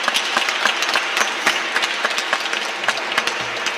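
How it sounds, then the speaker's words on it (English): An audience applauds volunteers at a Saturday Free School anniversary session, with steady, dense clapping sustained for nearly four seconds at moderate loudness and no speech over it. "I want to give those folks a round of applause"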